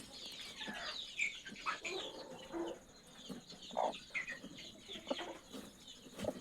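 A broody hen settling onto her eggs makes soft, intermittent clucks and low throaty murmurs with faint rustling between them, close by and quiet, with no talking.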